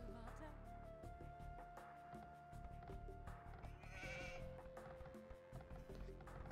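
Sheep bleating in Age of Empires 2 HD, over steady background music and low rumble; a brighter burst of noise rises midway.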